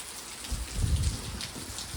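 Rain falling in a village during Janmashtami festivities, a steady close patter of drops on surfaces with a slightly heavier burst midway and wind in the background.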